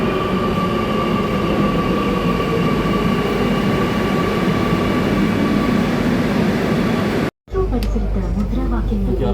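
A Kochi Metro train rumbles loud and steady at a platform near Aluva, a continuous roar of wheels and motors that cuts off abruptly near the end, after which people talk.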